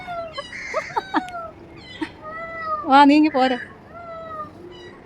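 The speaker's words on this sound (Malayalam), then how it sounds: "അത് നിന്റെ പൂച്ചയല്ല, ഇവിടത്തെ പൂച്ചയാ." A house cat meows several times in a drawn-out, plaintive way, the calls close and fairly loud, mixed with a person speaking to it and a cluster of overlapping cries near the end.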